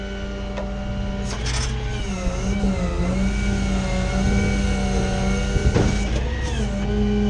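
A tow truck's PTO drones steadily close by, a continuous mechanical whine with wavering pitch over a low engine hum, with a few brief clatters along the way.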